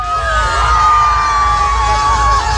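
Loud crowd screams and cheers at a techno parade in Paris, a dense, sustained roar of many voices with whoops, close and continuous.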